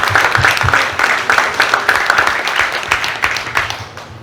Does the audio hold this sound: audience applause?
yes